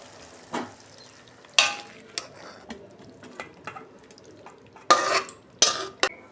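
Cooked bottle gourd and prawn curry is poured from a pan into a serving dish. Irregular bursts of spoon scraping and metal clanks ring out, loudest near the end, between quieter pauses.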